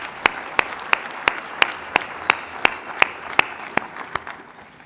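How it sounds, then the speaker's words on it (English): Applause from an audience at a State of the City address, with sharp, evenly spaced claps standing out over a steady wash of clapping that fades slightly toward the end. "a nice big round of applause for all of the Chamber staff"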